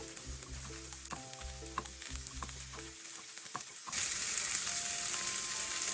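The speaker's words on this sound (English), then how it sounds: "I will just keep stirring them until the onion looks caramelized" Onions sizzle and crackle in a pan while being stirred toward caramelized, with scraping and tapping strokes up close; the frying hiss grows louder and brighter near the end.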